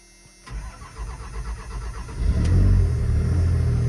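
A vehicle engine cranks and fires, then settles into a rumbling run before a touch of throttle revs it louder and holds it there. The engine is close and loud with no talk.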